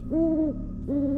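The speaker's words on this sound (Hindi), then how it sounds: "हमें फिर से उसी पंछी की आवाज़ सुनाई देने लगी।" An owl hoots twice as a spooky sound effect in a Hindi horror story, two close, loud, tonal calls separated by a short pause.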